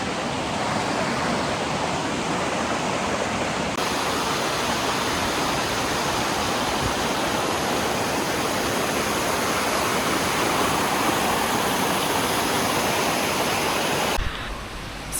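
Dunn's River Falls in Jamaica roars as a loud, constant rush of falling water, dense and unbroken from start to finish, heard close with no voices.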